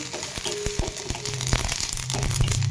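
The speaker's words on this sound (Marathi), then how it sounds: "बघा तीळ एकदम सगळीकडे कसे तडतड असे उडलेले आहेत, चांगले भाजलेले आहेत." Sesame seeds dry roasting in a pan after green chillies, giving a continuous close crackle of small popping and crinkling bursts, with scattered sharper snaps throughout.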